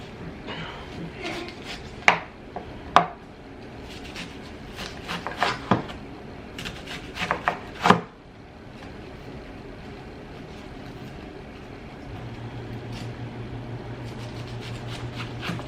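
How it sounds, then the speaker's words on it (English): Knife chopping onions in a home kitchen, irregular sharp taps on a cutting board in scattered bursts, some louder close strikes, followed by a steady low hum near the end. "I'm just gonna chop 4 onions"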